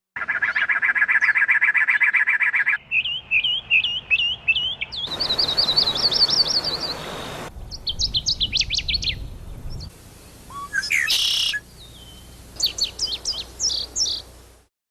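Several different songbirds sing in turn, each a clear, close burst of trills, chirps and rapid tweeting phrases, separated by brief pauses, with no voices.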